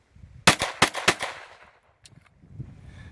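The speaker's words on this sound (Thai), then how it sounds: "เดี๋ยวเรามาลองดูกัน นะฮะว่ายิงได้ไหมสามนัดเหมือนกัน" A Smith & Wesson MP9 pistol fires several sharp, loud shots in quick succession at close range, each followed by a brief echo, then fading to quiet outdoor noise.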